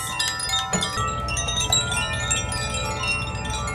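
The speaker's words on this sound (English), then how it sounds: "I really recommend sailing with wind chimes dangling because your boat just sounds beautiful." Metallic wind chimes on a sailing boat in Hilo Bay, Hawaii, tinkle continuously with overlapping bright ringing tones, jingling irregularly over a low background rumble.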